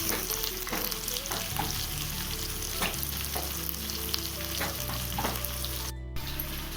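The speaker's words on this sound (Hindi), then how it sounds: "जब तक पटल फ्राई हो रहा है तब तक मसाला निकाल देते हैं।" Sliced pointed gourd (parwal) sizzles and crackles steadily in a hot oiled pan, with occasional stirring scrapes and soft clinks over the continuous frying hiss, close and fairly loud.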